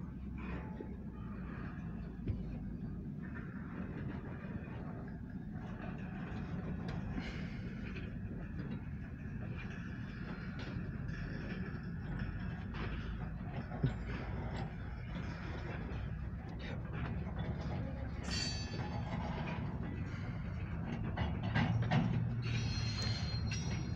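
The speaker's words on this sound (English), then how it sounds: "We have a grain hopper train coming." An OC&T Alco locomotive hauling grain hopper cars rolls past northbound, a long, steady rumble of wheels and clanking cars with occasional squeals and knocks, growing louder toward the end.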